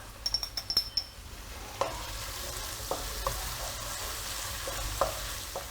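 Chicken pieces fry in a pan with a pinch of turmeric: a few light utensil clinks at the start, then a soft steady sizzle broken by occasional stirring scrapes.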